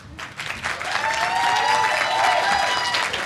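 An audience at the BsidesLV security conference applauds as a speaker comes to the stage, building to a dense, sustained round of clapping from a large crowd with no talking over it.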